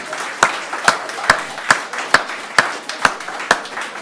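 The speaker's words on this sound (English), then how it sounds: "A round of applause for Limo's bidder." Applause at an in-room real estate auction, heard as eight slow, evenly spaced claps that stand out over a thin crowd murmur. The clapping is moderately loud and sounds close, giving a steady rhythmic beat.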